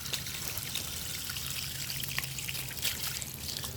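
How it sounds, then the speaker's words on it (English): Continuous water trickling onto a flood barrier, a steady wet splashing and dribbling with a low rumble beneath, moderately close and unbroken throughout. "I now have the water going directly on it"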